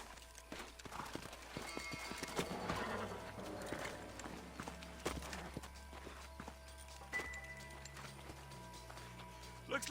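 Several horses in the Red Dead Redemption video game clop along at a walk, steady hoof falls over a low music bed, with game voices talking intermittently.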